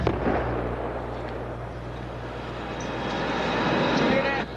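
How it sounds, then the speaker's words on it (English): A distant atomic bomb blast from a nuclear test rolls in as a broad, sustained low rumble that swells again toward the end, with no voices over it. "In case you missed it, that was the atomic explosion. There's a blast behind us."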